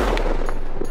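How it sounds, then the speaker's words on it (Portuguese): A single shotgun blast fired at a thrown clay target during a scouting outing, sharp and loud, close to the microphone, with its boom filling the short moment. "eles me deram a arma e lançaram um prato de argila pra eu atirar"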